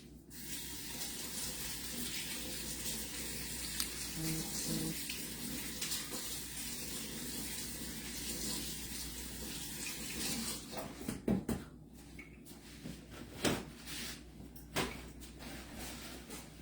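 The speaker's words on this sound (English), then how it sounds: "Let me wash my hands" Tap water runs steadily into a sink while hands are washed beneath it, a continuous close splashing hiss that later breaks into intermittent splashes and clatter.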